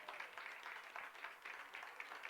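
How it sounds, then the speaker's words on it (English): Steady applause from Grossmont fans and parents and S.D. Academy home supporters at a girls' varsity high school soccer quarterfinal, a continuous patter of many hands clapping at a fair distance, without talk. "Gets a round of applause from both the Grossmont fans and parents on the other side, the home fans for S.D.Academy"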